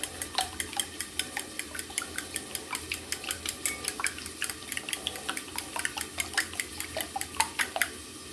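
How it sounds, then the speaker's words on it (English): Eggs whisked in a bowl with a whisk or fork for an egg stew, a steady run of quick, light clinking taps repeating close by with no talk. "Then you can use a whisk or a fork and make sure that the white and the yolk are well combined."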